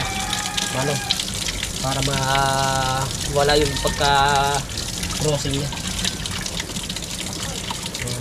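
Water splashing and running as hardened fish is soaked to soften it, a steady wash heard beneath someone talking in Filipino.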